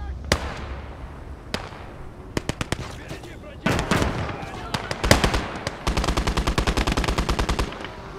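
Artillery strike explosions and gunfire in Gates of Hell: Ostfront, scattered sharp shots and a heavy blast giving way to a rapid rhythmic machine-gun burst, loud and close.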